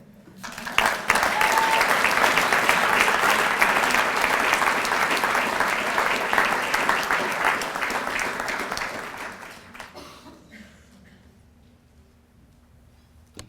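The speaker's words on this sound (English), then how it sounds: "Can we get another round of applause for this?" Loud, sustained audience applause fills an awards banquet hall for about nine seconds, then fades into quiet room tone.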